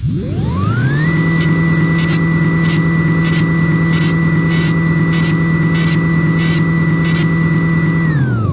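A CNC lathe spins up and runs an automatic G76 thread-cutting cycle, its steady loud tonal whine rising and then holding level while regular repeated pulses mark each threading pass, before winding down at the end.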